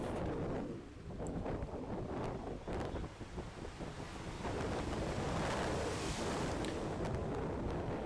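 Ocean waves wash onto a Mombasa beach in a steady, loud roar of surf mixed with gusty wind buffeting the microphone, continuous throughout with no voices.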